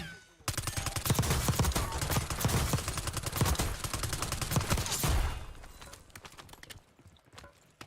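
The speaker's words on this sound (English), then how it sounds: "All right, so the 973 is a burst fire weapon." Rapid gunfire from a 973 burst-fire weapon in a video game, a dense run of shots for about five seconds that then cuts off, leaving a quieter tail.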